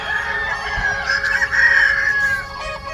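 A flock of chickens clucking and crowing continuously, fairly close, with several birds calling over one another and no talk.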